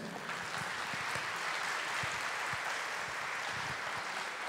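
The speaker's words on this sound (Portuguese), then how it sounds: "Peço a você que aplauda a Josiane." Steady, dense clapping from a crowd, sustained and fairly loud throughout with no pauses, ending in a slightly louder burst.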